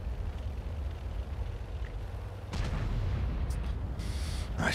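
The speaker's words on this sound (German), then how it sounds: "Ich liebe aber den Sound von diesen 15 cm Kanonen." 15 cm tank cannons firing in World of Tanks, a heavy booming blast that hits midway and leaves a long rumbling tail over steady engine drone, followed by a few sharper cracks.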